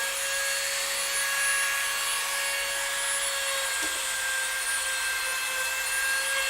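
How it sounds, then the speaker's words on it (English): A Dremel rotary tool runs steadily, giving a constant high-pitched whine with sharp tonal lines over broadband hiss. It drones evenly and fairly loud with no pauses and no voice. "Can you guys hear the Dremel?"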